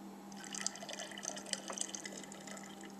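Yeast starter poured into a batch of hibiscus wine, giving a faint, continuous trickle of liquid with small drips and splashes over a steady low hum, heard alone.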